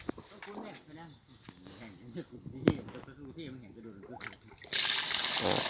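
Water from a Handuro 750W solar-powered pump, running on three 420 W panels, bursts out loud and steady near the end after a stretch of someone talking over quieter trickling.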